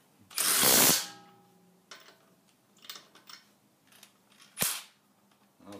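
A cordless drill driver, compared between Milwaukee FUEL brushless and DeWalt XR models, tightens wheel lug nuts in a star pattern: two loud ratcheting impact bursts separated by softer clicks and handling noise, close by.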